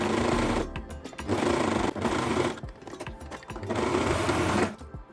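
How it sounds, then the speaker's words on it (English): A sewing machine finishes garment seams with an overlocker or zigzag stitch, running in three steady bursts separated by short pauses, loud and close with no talking. "Finish the seams with an overlocker or a zigzag stitch."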